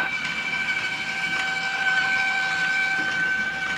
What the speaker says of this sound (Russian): Смотри, сейчас поезд поедет!